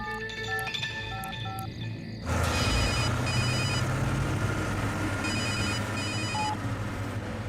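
A telephone rings in repeated electronic bursts in a Hindi-dubbed South Indian action film scene, first alone and faint, then under a sudden loud, dense wash of background music and noise.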